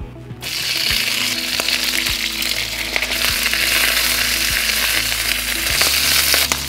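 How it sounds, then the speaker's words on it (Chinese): Wrinkled, pre-boiled green beans hit hot oil in a wok over medium-high heat, giving a loud, steady sizzle with occasional scraping stirs and utensil taps. "现在我们就可以下锅来炒它。"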